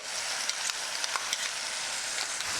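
Onion, garlic and ginger puree fries in a hot pan for an omelette curry, a steady bright sizzle heard up close with faint crackles and small pops throughout, and no voices.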